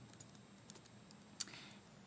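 Faint, sparse clicks of typing on a computer keyboard while an address is entered, a few soft keystrokes spread over a quiet room background with one slightly sharper tap.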